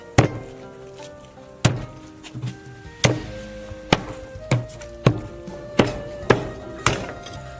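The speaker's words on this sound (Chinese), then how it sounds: "我感觉有点大，再往小剁一下" Pork ribs are hacked into smaller pieces with a cleaver on a chopping board in a home kitchen. About a dozen sharp, heavy thunks land close up at a steady, unhurried pace, with no talking.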